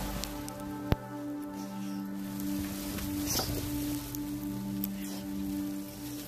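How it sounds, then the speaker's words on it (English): Steady rain and sleet patter on surfaces nearby, a dense even hiss with scattered sharper drops and one brief louder tap. "Got some sleet and rain coming down right now."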